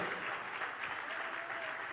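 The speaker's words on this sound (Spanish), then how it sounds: "Denle un aplauso al Señor." Church congregation applauding during a Spanish-language sermon, a dense, steady wash of many hands clapping together, fairly even in loudness throughout and with no other sound over it.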